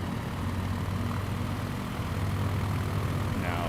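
A light aircraft engine in Microsoft Flight Simulator 2020 throttles up for takeoff near the Oakland Bay Bridge, giving a steady, loud, continuous propeller drone that holds throughout.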